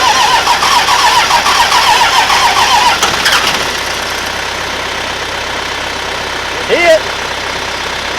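A 2002 Ram Cummins 24-valve diesel engine cranks, catches and settles into a steady idle, loud and close. A voice briefly speaks over it.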